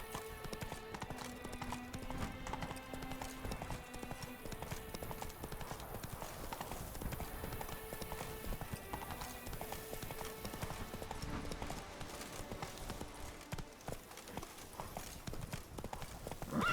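Hooves of the horse Roach clip-clop steadily along in The Witcher 3: Wild Hunt, Blood and Wine, a regular walking rhythm under game music and ambience, fairly close and moderate in level.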